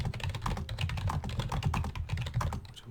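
Dense, rapid keystrokes on a computer keyboard as a text message is typed, a steady run of close clicks and taps with no talking.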